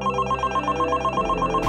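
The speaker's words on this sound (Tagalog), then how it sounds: "Mr. Facundo, baka gusto mong sagutin ang telepono" A telephone rings in an office, with a steady repeating electronic ring pattern sounding clearly and continuously, ending abruptly with a brief noise burst.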